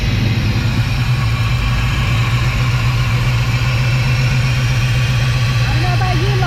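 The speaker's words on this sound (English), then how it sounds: "My favorite part of any interview is when they offer to turn on the engines" A classic race car engine at a Las Vegas car show, started and then idling with a loud, steady, deep rumble throughout, close by and alone without talk.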